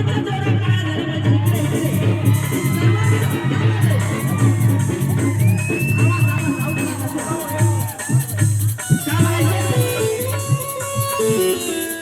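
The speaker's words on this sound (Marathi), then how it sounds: "सर्वांच्या जोरात टाळ्या झाल्या पाहिजे" Crowd at a live Ambedkarite song program in Dharmabad with a singer, cheering and shouting loudly over continuous music and amplified sound, with a dense, steady roar throughout.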